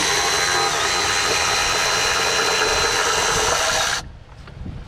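A power tool removes water pump bolts from a car engine with a loud, continuous buzzing whir that runs steadily for about four seconds, then cuts off abruptly into quiet.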